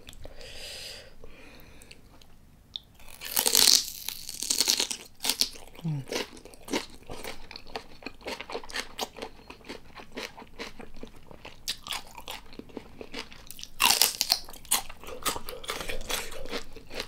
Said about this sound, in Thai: ร่อยมากกินกับเซอร์รี่อร่อยมาก